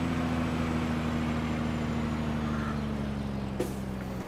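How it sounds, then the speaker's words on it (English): A truck's engine brake rumbles steadily in a Farming Simulator game during spring seeding, a loud, even low drone from a nearby engine with a brief hiss near the end. "this truck's got some nice updated sounds, and then it's also got a Jake brake now."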